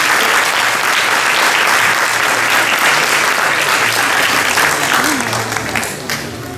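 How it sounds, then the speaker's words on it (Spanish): An audience applauds after a performer at a piano recital, loud and continuous clapping throughout, thinning slightly toward the end. "Aplausos nuevamente para Nicolás Cáceres"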